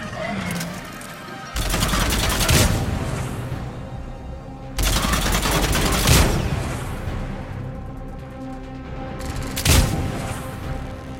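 Combat in the video game Mass Effect 3 on Insanity difficulty brings repeated loud explosive blasts from grenades with rattling gunfire between them, heavy and close, in three big bursts.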